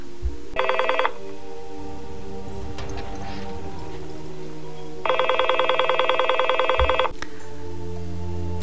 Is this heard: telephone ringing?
yes